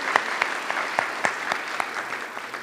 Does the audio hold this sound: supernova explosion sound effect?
no